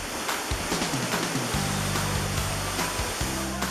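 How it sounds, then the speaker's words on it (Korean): Dangkkuta waterfall in Nepal, a popular summer bathing spot reached by climbing stairs, pours down in a steady, loud broadband roar of falling water, with no talking. "당꾸따 폭포가 나옵니다."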